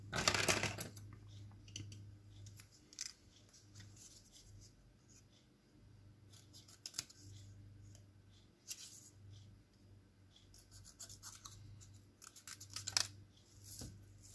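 Scissors roughly cut out a paper label for a metallic watercolour card. Close snips and paper rustles come in scattered bursts, with a louder rustle at the start.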